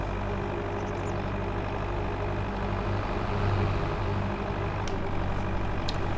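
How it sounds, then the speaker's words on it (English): Tractor engine in Farming Simulator 22 idling and running with a steady, loud low drone, continuous and alone throughout. "we have another tractor en route. I will pull over"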